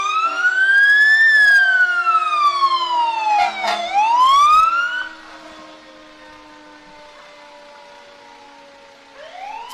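Fire engine sirens wail loudly and close at a 2018 Memorial Day parade in Peabody, MA, with rising and falling sweeps and overlapping tones that fade to a softer steady drone before another siren swoops up.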